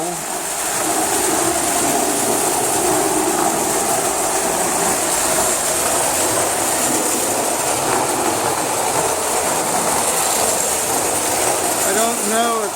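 A restored Marx Commodore Vanderbilt toy train runs on a 31-inch radius oval track, giving a steady close-up whir and rattle of wheels and motor that holds loud and even throughout.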